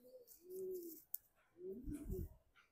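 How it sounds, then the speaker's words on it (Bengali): A sapchila-pattern pet pigeon coos softly nearby in two low, rolling phrases, with a brief click between them in a quiet loft. "এই একটা সাপচিলা প্যাটার্নের একটা কবুতর"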